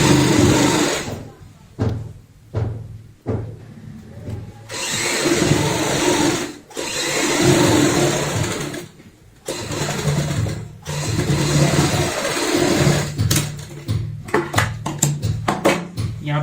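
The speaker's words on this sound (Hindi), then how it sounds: "यहाँ पे दोस्तों जिप के ऊपर सिलाई नहीं आती तो जिप के साथ तक हम यहाँ पे सिलाई लगा देते हैं।" Sewing machine stitching alongside a zip on a shopping bag made from a recycled old shirt, close and loud, running in long steady bursts broken by short stops and a run of quick stop-start stitches near the end.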